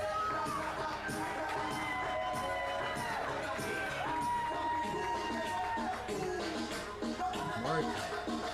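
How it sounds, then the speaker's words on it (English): A wrestling crowd at a triple threat match gives Marc Anthony a mixed ovation, with sustained cheering, whoops and scattered shouts blending into a dense, lively roar of many voices throughout. "Marc Anthony seems to have a mixed ovation from the crowd."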